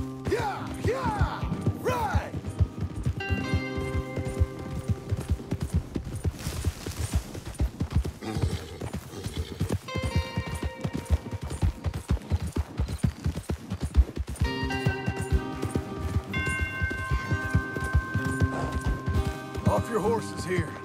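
Horse hooves clip-clop at a gallop in the Western video game Red Dead Redemption II, a steady rhythm under music and talk, with occasional gunfire and a neigh.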